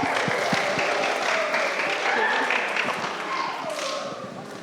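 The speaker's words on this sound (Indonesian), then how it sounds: "Tepuk tangan teman-teman." Applause from the congregation at a youth commission church service, steady clapping from many people held at an even level for several seconds, with voices calling out over it.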